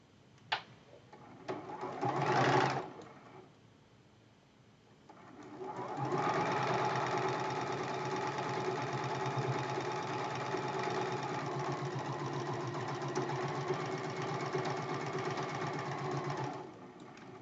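A sewing machine stitching quilt block seams for a Christmas tree block, with a short burst and then a long, steady run of fast mechanical whirring, close and even with no talk.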